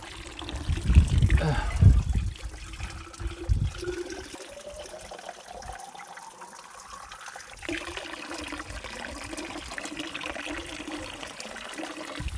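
Water runs from a spring tap on a mountain trail into a container, a soft continuous trickle with gurgling and handling noise early on, and a voice speaking briefly at the start.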